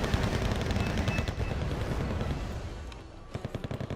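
Rapid autocannon fire in the real-time strategy game Wargame: Red Dragon, dense overlapping bursts and booms for most of the stretch, thinning out before a few sharp separate shots near the end.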